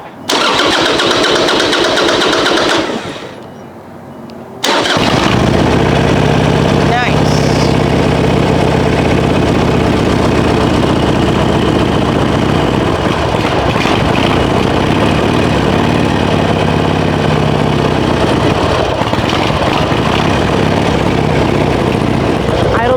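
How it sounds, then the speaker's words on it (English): A 2005 Harley-Davidson Sportster 1200 Custom is started up and left idling, its loud, steady engine rumble running without a break for about eighteen seconds after a short lull. "So I'm gonna start it up, and I'm gonna let it warm up a little bit until it can run without the choke on"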